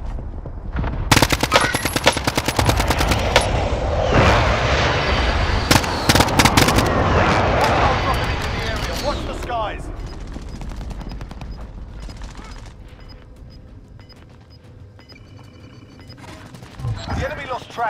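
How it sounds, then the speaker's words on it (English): Video game firefight with a precision airstrike: loud rapid gunfire and repeated blasts crowd the first half, then the barrage thins into sparse distant shots and faint echoes, a few closer pops near the end. "Friendly precision airstrike inbound."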